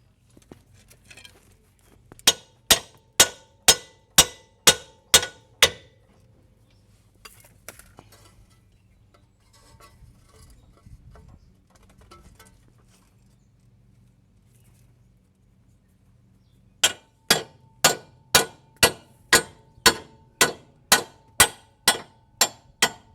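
Sharp metallic hammer strikes on a 2001-2005 Honda Civic control arm during ball joint replacement, in two quick, evenly paced series, about seven blows then a longer run of a dozen, with quiet shuffling in between.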